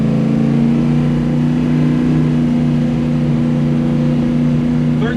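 Chrysler engine fitted with a square-back alternator on a one-wire conversion, held at a steady rev around 2600 rpm with a loud, constant mid-pitched drone and no whine, running alone without talk.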